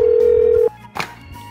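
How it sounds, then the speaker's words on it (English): An office telephone rings once with a loud, steady electronic tone that cuts off abruptly, followed by a short handling rustle as it is picked up. "The telephone is ringing."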